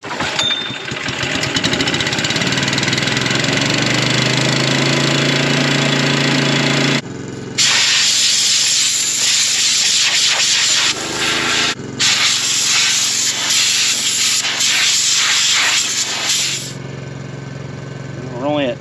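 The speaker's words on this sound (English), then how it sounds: "I need to blow that radiator out." A loud, continuous hiss of compressed air blowing out a radiator, with a steady engine running underneath; the rushing air cuts out briefly a few times and restarts.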